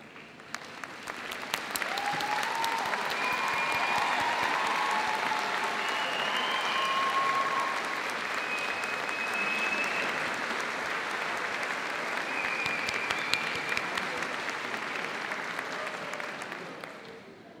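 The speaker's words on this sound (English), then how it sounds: "join me in giving them a well-deserved round of applause" A large graduation ceremony audience at Birmingham City University stands and applauds family and friends, a sustained, full round of clapping that swells early, holds for well over ten seconds and tapers at the end, with faint cheers mixed in.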